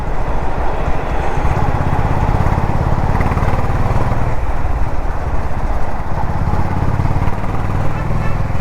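A Honda H'ness CB350 motorcycle rides through the city, its single-cylinder engine producing a loud, steady thumping drone that stays close and continuous throughout.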